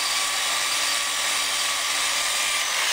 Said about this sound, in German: Nachschleifen mit 120er Schleifpapier.